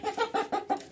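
Chickens inside a coop give about five short, close clucks in a quick, regular run, with no voices.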